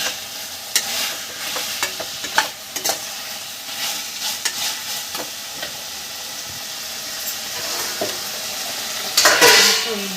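Radhuni spice paste with cumin and ginger fries in a pan for a Bengali bata fish curry, a soft steady sizzle broken by scraping stirs and clinks of the spoon, with a louder hiss near the end.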